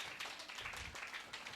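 A group claps for Jesus at a Christian prayer gathering, a dense burst of quick, overlapping hand claps that stays fairly even for a moment.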